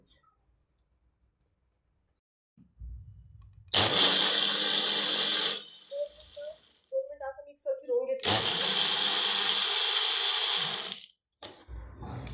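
A kitchen blender loudly whirs in two long bursts while blending a thick ragi smoothie with cashews and dry fruits, with short clatters and a pause between the runs.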